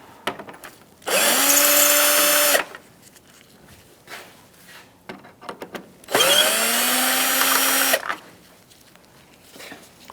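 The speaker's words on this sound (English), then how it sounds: "Now we're going to take out these 2 Phillips head screws." A power tool whirs in two separate bursts, each about one and a half seconds long with a rising whine, while removing two Phillips head screws on a 2004-2009 Mazda 3 during washer reservoir replacement; quiet handling noises fill the gaps.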